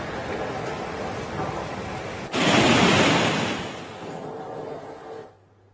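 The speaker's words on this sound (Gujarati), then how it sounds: "નદીઓ બે કાંઠે વહેતી થઈ છે, ક્યાંક ભયજનક સપાટીથી ઉપર નદીઓ વહી રહી છે" A river swollen by heavy rain flows bank to bank in Bhavnagar district, a broad roaring rush that surges louder partway through before easing, with no voices.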